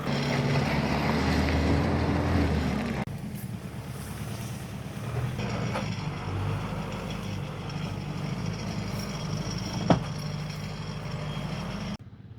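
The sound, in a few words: tractor engine running in an orchard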